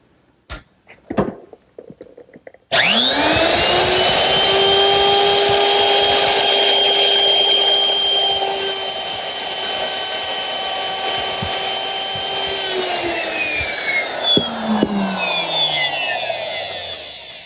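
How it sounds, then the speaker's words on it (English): A router with a 1/4" round nose bit and a rip fence spins up with a sharp whine after a few handling knocks and cuts a groove in wood, a loud, steady scream that winds down at the end. "I'm going to use my router, which is set up with a 1/4" round nose bit and a rip fence"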